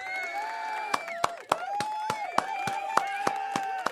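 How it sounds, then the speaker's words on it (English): An audience claps and cheers, with scattered sharp claps and whoops over a steady crowd murmur, a voice or tone sustained through the middle, moderately loud. "Big shout out and round of applause to General and Dion and the brother that lost his life, VA."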